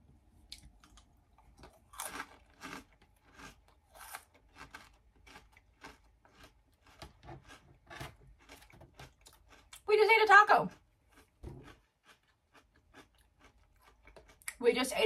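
Taco-flavored Chex Mix and corn chips crunched close to the mouth, with bursts of crisp biting and chewing scattered through the clip, one loud crunch standing out, while people chatter over it.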